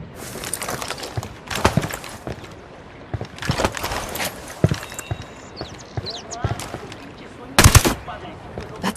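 Gunfire in the open-world shooter Ghost Recon Wildlands, aimed at cartel gunmen around a floating coca lab on water: sharp bursts and single shots crack out repeatedly over a busy game soundscape, with a loud cluster near the end.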